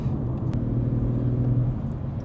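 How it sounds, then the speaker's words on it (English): BMW M140i or M240i fitted with an aftermarket exhaust, cruising down the back straight at Donington circuit; a steady, close, low engine rumble with a smooth droning-free hum that holds constant throughout, no voices. "Absolutely no drone on that exhaust."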